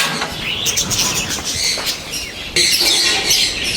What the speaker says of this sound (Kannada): ಓಹೋ ಬರ್ಡ್ ಸಾಮ್ರಾಜ್ಯನೇ ಇದೆಯಪ್ಪ ಇಲ್ಲಿ